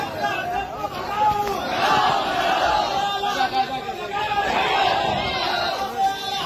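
A crowd of madrasa students shouting at once in a loud, continuous jumble of voices and cries, heard close.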